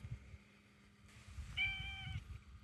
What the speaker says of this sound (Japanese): 猫ちゃん、